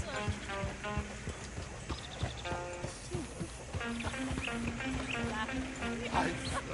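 A horse-drawn coach in Red Dead Redemption II clip-clops along steadily, hooves rhythmic and close, with brief harness jingles and birdsong as voices talk over it.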